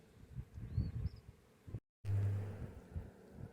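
Honeybees flying around an opened hive on a warm day, a soft buzzing hum near the microphone with brief louder passes, broken by a short dropout.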